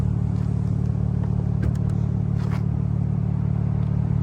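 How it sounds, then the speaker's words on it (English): A 2022 BMW M3 Competition xDrive idles while warming up, a steady, low engine drone with a constant rumble and a few light clicks, heard near and without revving. "I'm gonna let the car warm up for a little bit"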